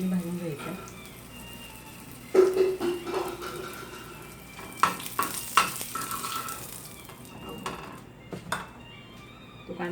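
Onion frying in a pan on a gas stove for a village-style shev bhaji, a soft sizzle under occasional sharp clinks and scrapes of a spoon against the pan, with brief murmured talk and a quieter background.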